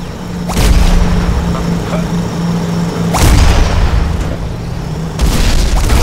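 Tank cannon shots in the video game Battlefield Heroes, three heavy booms a few seconds apart, each followed by a rumbling tail over a steady engine drone.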